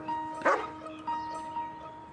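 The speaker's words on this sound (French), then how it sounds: "À votre avis, c'est le chien de Claudia Fogler?" A small stray dog gives a few short, sharp yips and barks, close and moderately loud, spaced about half a second apart over a faint background hum.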